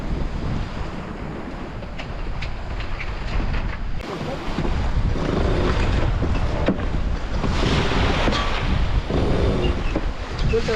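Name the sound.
wind and sailboat sailing at sea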